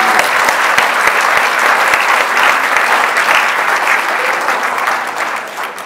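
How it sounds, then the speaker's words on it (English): Loud, sustained applause from the audience at a service pin and retirement ceremony honors Jerry Lewis, with sharp individual claps standing out of the continuous clapping throughout. "Well, a round of applause to Jerry Lewis."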